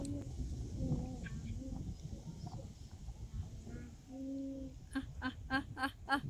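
Chinese village chickens in Changsha cluck and squawk in scattered bursts, close by, with a voice briefly mixed in and a quicker run of sharp calls near the end.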